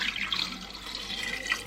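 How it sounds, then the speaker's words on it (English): Water is poured into a container and rinsed out into an Instant Pot, a faint, short trickling splash while cooking. "I'm going to fill this up a little bit with water and then just wash it out into the Instant Pot."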